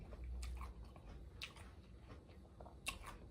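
Faint, close crunching bites and chewing of crunchy taco nachos, a few crisp crackles spread over several seconds with soft mouth sounds between.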